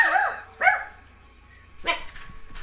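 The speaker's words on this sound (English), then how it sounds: "There's a dog in the background, Peter." A dog barks in a film scene, two sharp yips close together, then a pause and a third bark, clear against a quiet background.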